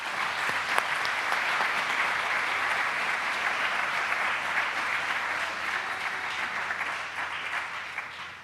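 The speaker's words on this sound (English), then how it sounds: "Let's give our Spinnaker Award honorees another round of applause" An audience applauds award honorees at an education awards celebration, a sustained, even wash of many hands clapping that holds steady throughout and fades slightly at the end.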